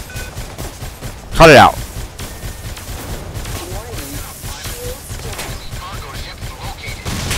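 Gunfire in the Star Conflict space combat game strikes the player's ship in a brief loud burst, followed by steady game background noise as someone speaks over it.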